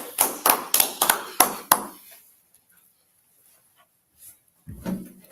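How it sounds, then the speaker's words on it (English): A person claps about six times in a quick, even burst up close, followed by near silence and a brief low voice at the end. "All right, let's clap it up."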